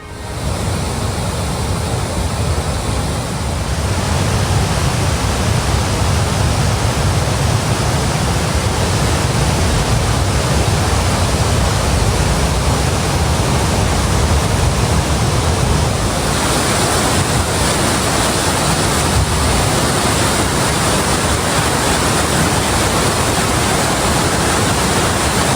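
Floodwater of the Thamirabarani river surges over the Srivaikuntam check dam after continuous heavy rain, a loud, unbroken roar of rushing water filling the whole stretch without pause.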